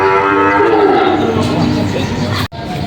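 Loud, close mooing from cattle and water buffalo at a Tuesday livestock market in Padre Garcia, Batangas: one long drawn-out low call that falls in pitch, with crowd noise behind it and a brief dropout near the end.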